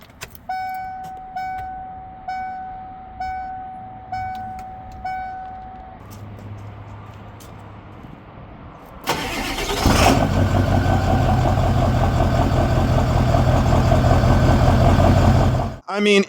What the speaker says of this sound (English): some B-roll real quick of me cold starting the truck this morning.